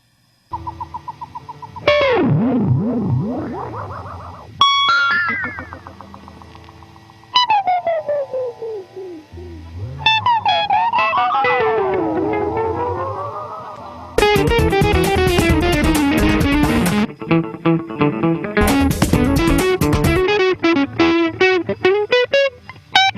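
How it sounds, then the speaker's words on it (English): Spacey electric guitar effects: swooping pitch bends, warbling whistle-like tones and harsh distorted bursts, loud and erratic, with no voices. "a space guitar, which is like these random effects"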